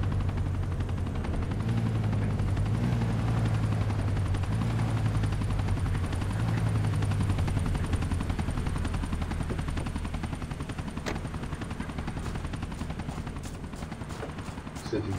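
Helicopter in GTA IV flies overhead with a continuous rotor thrum and whine, loud at first then easing slightly as it passes, with a few sharp bangs near the end.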